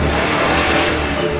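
A car engine revs hard and loud at close range, a sustained roaring drone with no pause.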